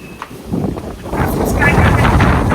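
Strong wind buffets the microphone in heavy rumbling gusts that build and grow louder, with a few faint sounds underneath.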